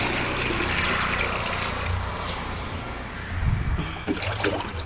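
Jeevamrutham and buttermilk are poured into a 3-litre can in a garden, giving a steady, close gurgling trickle that surges and splashes toward the end.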